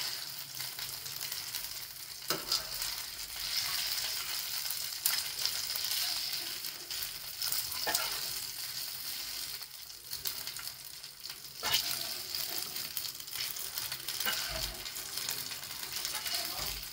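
Prawns frying in hot oil, a steady crackling sizzle with occasional sharper pops and clicks, continuous and fairly close, no talking.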